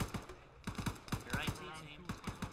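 Gunfire at a vehicle in a video game: quiet, sharp rapid shots in short irregular bursts, heard faintly in the background.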